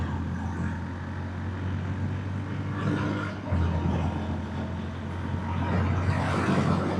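A motorbike ridden at night on a rainy road overtakes cars amid a continuous low engine drone and road hiss, with wet traffic noise swelling as vehicles pass close.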